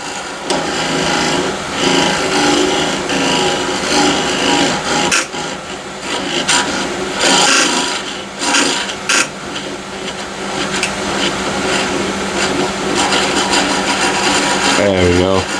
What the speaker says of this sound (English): I'm cutting it or scraping it away from the bottom